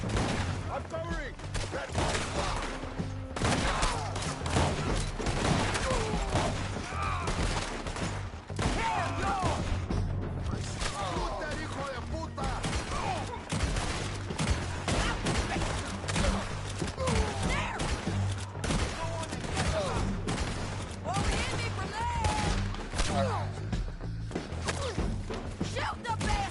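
Gunfire fills a Red Dead Redemption 2 shootout: sustained volleys of close and mid-distance gunshots over a steady low rumble, with voices shouting between the shots.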